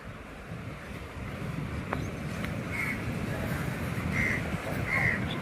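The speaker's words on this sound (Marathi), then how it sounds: "लाटा बघा केवढ्या येतात त्या" Ocean surf at Devgad beach, a steady broad wash of breaking waves under wind with a few distant crow caws, continuous and moderately loud.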